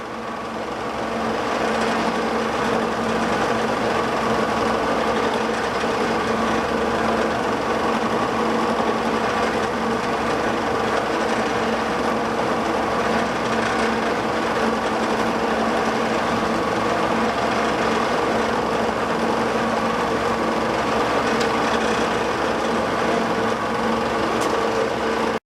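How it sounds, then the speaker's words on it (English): Steady machining drone of a Rivett 1020F lathe drilling through plastic under heavy feed, a continuous loud mechanical whir with a constant tone running unbroken and close, no voices. "Drill all the way through with plastic, feed it like hell."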